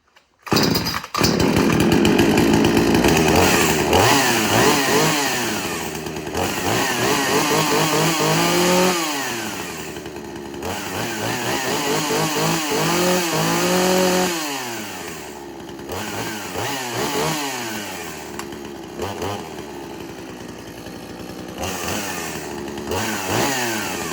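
A 2001 XtremepowerUS 82100XP gas chainsaw runs after a pull start, its small two-stroke engine buzzing loud and close, revving up and dropping back to idle again and again over about twenty seconds, with no voices.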